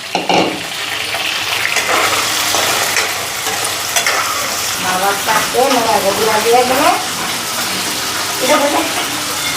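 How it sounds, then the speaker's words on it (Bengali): Fish fries in a pan, a steady loud sizzle and crackle throughout, with occasional stirring or clinking and soft voices in the background. "মাছগুলি ভালো করে ভেজে নিই।"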